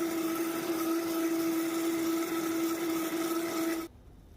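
Close, loud blender whirs at a steady pitch while pureeing a liquid immunity drink mixture with salt, running evenly for nearly four seconds before cutting off abruptly into quiet.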